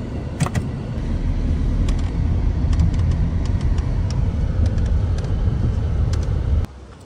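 A car with air suspension drives in Madina, giving a steady, low engine and road rumble from inside the cabin with faint clicks, before cutting off abruptly near the end.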